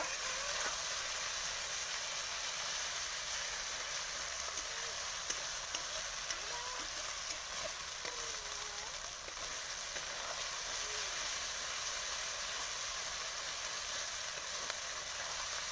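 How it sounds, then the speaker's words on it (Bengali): A ground paste of cumin, coriander and green chilli sizzles steadily in a pan for a rohu fish curry, a continuous soft frying hiss with faint stirring scrapes, fairly quiet and even throughout. "জিরে ধনে, কাঁচা লঙ্কা বাটা, মশলাটা ভালোভাবে কষিয়ে নেব।"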